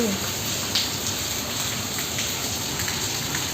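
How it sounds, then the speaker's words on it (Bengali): Steady rain falls in Bangalore, a dense even hiss of drops on surfaces filling the whole stretch without letup. "বৃষ্টিটা এখনো শেষ হয়নি"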